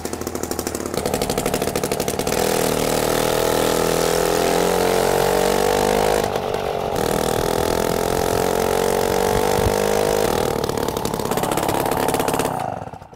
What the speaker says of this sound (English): This bike is ready to be full started and ran.